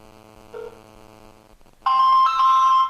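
An iPhone dialing T-Mobile's 611 support line: a few soft tones, then a loud, steady ringing or call-connect tone that fills the last second, with no talking.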